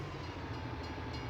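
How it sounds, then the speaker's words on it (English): Train rolling past in the Farming Simulator 19 game on the Griffin, Indiana map, a steady, fairly faint rumble with a continuous low drone and no voices over it. "Comes the train."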